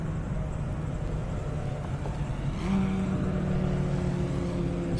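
Drag-racing engines at a half-mile airstrip event in Indianapolis, a Trackhawk against a Hellcat, drone steadily, then jump to a louder, higher sustained roar as the cars launch, with no talk.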